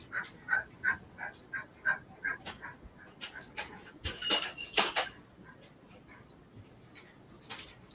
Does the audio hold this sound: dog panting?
yes